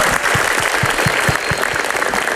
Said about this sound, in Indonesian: Tepuk tangan buat Bang Narji dong.